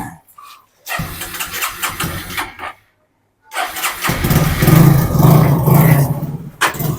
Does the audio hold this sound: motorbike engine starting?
yes